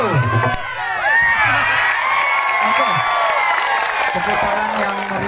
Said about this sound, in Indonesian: Tepuk tangan yang meriah untuk peserta tim Mapadendan dari Corowali.